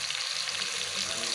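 Ground beef with oyster sauce sizzles and fries steadily in a hot pan, a dense continuous crackling hiss close up with no talking.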